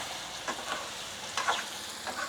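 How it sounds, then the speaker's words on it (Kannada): Onions and tomatoes frying and being stirred in a pan for a Kannada upsaaru kaara, with a soft steady sizzle and faint scraping stirs recurring through the clip. "ಚೆನ್ನಾಗೆ ಫ್ರೈ ಮಾಡ್ಕೋಬೇಕು ಈರುಳ್ಳಿನ ಟೊಮೊಟೊ ಹಾಕ್ತಾಯಿದ್ದೀನಿ"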